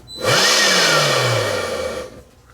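A faulty cordless DeWALT leaf blower spins up with a rising whine, runs loudly for under two seconds while its pitch sags, then cuts out abruptly as if in an overcurrent shutdown.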